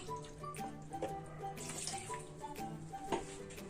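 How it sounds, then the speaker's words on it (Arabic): Cold tap water is poured into a bowl for bread dough, giving a faint, steady trickle and splash with small drips, heard close and alone. "وكنفرغوا الكاس الاول ديال الماء ديال الروبيني بارد"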